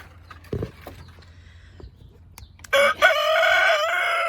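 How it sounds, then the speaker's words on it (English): After a few faint knocks and shuffles, a rooster crows loudly nearby, one long strained call that fills the last second and a half. "he'll get these little crowing jags after I leave"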